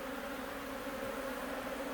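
Agitated honey bees buzz steadily around an opened hive during an inspection, a dense, continuous drone close to the listener with no voices.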